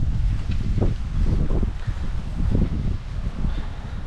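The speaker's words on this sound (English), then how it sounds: "Sometimes we get like big gusts of wind and rain that just zip by." Steady rushing wind from Hurricane Ian with rising and falling gusts buffeting the microphone, a low continuous roar with no voices.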